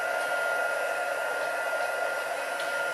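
Heat tool blowing hot air under a desk, a steady whirring hiss that holds constant throughout, muffled and fairly quiet.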